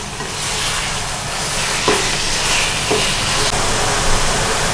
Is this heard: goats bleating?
no